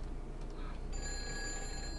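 Telephone ringing in the Nancy Drew Phantom of Venice video game: a faint, thin electronic ring tone that starts partway through and holds steadily, over low background hiss.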